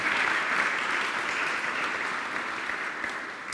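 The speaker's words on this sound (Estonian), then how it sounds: "aga sellegi poolest suur aplaus." Steady, dense applause fills a hall at an aviation academy graduation ceremony, a continuous wash of many hands clapping together that eases off slightly toward the end.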